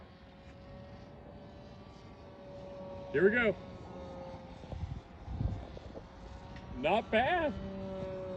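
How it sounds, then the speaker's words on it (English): MU-2 model airplane flying at full throttle, a distant, faint engine drone with rising and falling whines as it passes, heard under casual talk from people nearby. "The airplane doesn't sound too good. I was at full throttle."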